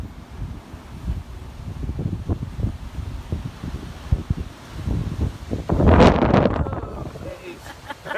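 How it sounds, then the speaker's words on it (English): Strong gusting wind buffets the microphone outdoors at a lakeside holiday park in Chichester, roaring in loud low bursts throughout and peaking in a heavy gust near the end, with no speech. "It is very, very windy."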